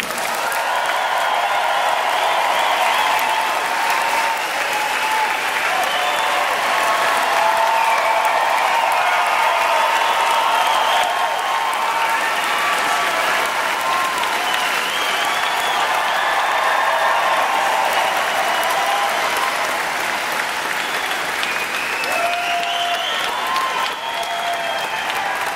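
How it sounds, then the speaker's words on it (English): A studio audience gives Mr. Stan Lee a long, loud, sustained round of applause, steady dense clapping with some crowd noise that holds for the whole stretch without letting up. "put your hands together for a nice warm round of applause for"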